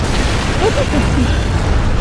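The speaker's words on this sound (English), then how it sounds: "Yeah, I still want these explosions." Explosions from Armored Core 6 rumble in a dense, continuous roar of loud booms during online arena mech combat, with faint voice fragments mixed in.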